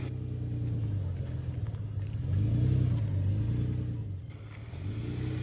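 A truck engine drones steadily while driving off-road over rough terrain during a summer camping trip in the Arizona, Utah and Nevada desert. It is a low, fairly quiet rumble that swells briefly as the truck works harder, with no talking.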